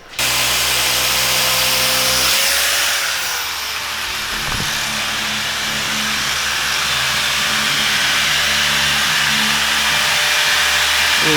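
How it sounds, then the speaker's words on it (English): Power buffer polishing sanded paint on a truck, a loud, steady, close whine with a constant hum that dips slightly in pitch partway through and then holds, running throughout with no talking. "We're gonna refine the scratches that we just put in here and buff it back out."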